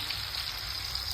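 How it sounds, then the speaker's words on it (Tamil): Black pomfret fish frying in hot oil, a steady close hiss and crackle with fine popping, continuous and fairly quiet, no voices. "மீன் வந்து இப்போ வந்து பிளாக் பாம்பட்டு நம்ம வந்து ஃப்ரை பண்ணிகிட்ருக்கோம்"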